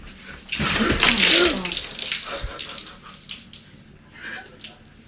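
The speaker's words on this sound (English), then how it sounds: "there's water coming out of the bathroom" Water gushing in a bathroom, a loud rushing burst that fades into an uneven trickle, with a brief louder splash near the end and no clear talking.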